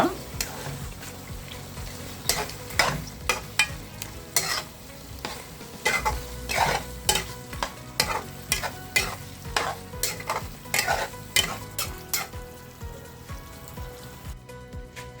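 About a kilo of prawns sizzles in a hot pan for a Tamil-style prawn gravy while a spoon stirs them in quick, repeated scraping strokes, a busy crackle throughout.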